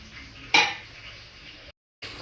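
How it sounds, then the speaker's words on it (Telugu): Cooked rice for vangi bath being moved onto a large plate, heard as one sharp clatter of a utensil on a dish followed by quiet handling and a short dropout, with no talk. "ఇప్పుడు ఈ అన్నాన్ని అంతా కూడా ఒక పెద్ద ప్లేట్లోకి వేసేస్తున్నాను"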